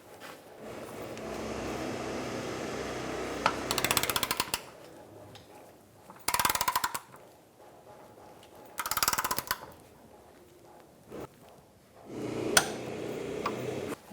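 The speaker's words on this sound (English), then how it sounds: "We're going to torque this bolt to 65 foot-pounds." Torque wrench tightening a rear engine mount bolt on a 2004-2009 Mazda 3, heard as several short, loud bursts of ratcheting clicks separated by quieter workshop background noise.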